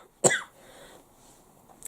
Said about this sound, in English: You have to excuse the cough.